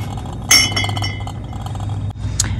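Glass mason jar sippy cups with straws, frosted glass, clinking together on a store shelf: a bright clink near the start, faint rattles and a second sharp chink near the end, close and loud.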